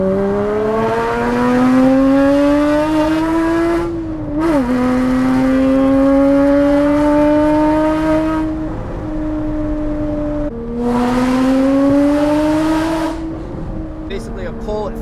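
A Toyota GT4 running on E85 fuel pulls at full throttle in several long runs, its engine note climbing steadily in loud, close sweeps, with brief drops between gear changes.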